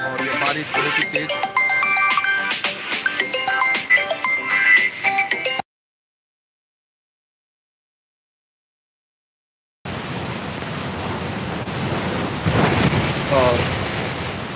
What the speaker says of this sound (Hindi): यहाँ बहुत तेज बारिश हो रही है